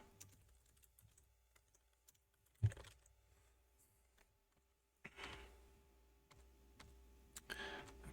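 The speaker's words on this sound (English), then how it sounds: "Award is quite hard to type on a keyboard." A computer keyboard is typed on in scattered, faint clicks and clusters of keystrokes, with a few louder taps and a burst of quicker typing near the end, quiet and close.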